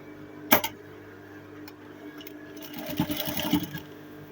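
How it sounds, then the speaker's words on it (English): A sewing machine sews a gathered skirt to the waist of an Ankara ball dress, giving a sharp clack, then a short, moderately loud burst of stitching near the end. "So let's sew together."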